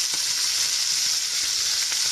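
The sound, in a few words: lamb searing in oil in a pan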